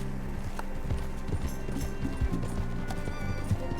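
A horse gallops in the video game Red Dead Redemption 2, its hooves pounding in a fast, rhythmic clip-clop close by, steady and moderately loud throughout.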